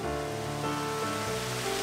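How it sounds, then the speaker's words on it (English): Light rain beginning to fall beside a creek, a dense, even patter of drops over steady running water, fairly close and continuous with no talking. "It's just starting to rain."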